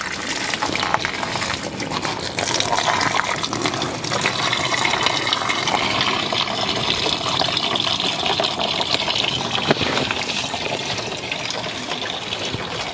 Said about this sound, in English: wait for a few minutes until it fully drains